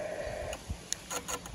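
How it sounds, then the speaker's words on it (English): A Xiegu G90 radio's antenna tuner working on 10 metres: faint relay clicks and soft ticking over a low hum and static hiss, a few short bursts of mechanical chatter. "You can hear the tuner working away."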